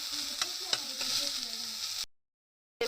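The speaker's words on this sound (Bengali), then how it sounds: "চলুন এবারে ভালো করে একটু অল্প পরিমাণ ভেজে নিই" Pieces of drumstick (sajna) fry in oil for shukto, a moderate sizzle with a few scraping stirs, cutting to silence before a brief return at the end.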